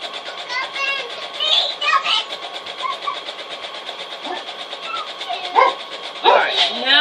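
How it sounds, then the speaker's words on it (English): A dog barks in short bursts in the background of a home sewing session, with someone talking and rumbling noise throughout. "He barks at squirrels and everything."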